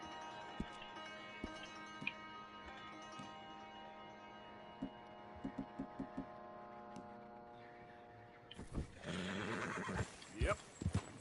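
A horse in Red Dead Redemption 2 neighs amid sharp, scattered hoofbeat clops over a steady musical hum, then a burst of louder movement and clopping near the end.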